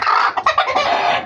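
Lemon Sweater chickens, two hens and a rooster, clucking loudly and continuously up close in a short burst with no talk.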